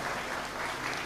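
Congregation applause during a Christian sermon, a continuous wash of clapping hands that stays even and moderately faint across the whole moment.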